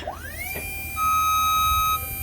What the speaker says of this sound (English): we would wait till it beeps 3 times and it's level